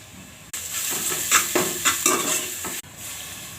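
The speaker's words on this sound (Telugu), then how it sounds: "ఇప్పుడు అల్లం వెల్లిపాయ పేస్ట్ అండి" Ginger garlic paste fries with well-browned onions for chicken biryani, a bright sizzle under repeated scraping stirs of a utensil against the pan, framed by quieter moments before and after.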